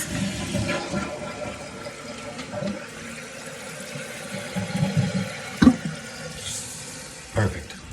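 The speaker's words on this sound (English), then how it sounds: "We flush it." A toilet flushes after a fill valve and flapper valve replacement, rushing and gurgling water rising and fading over several seconds, heard up close with a couple of sharp knocks and faint voices.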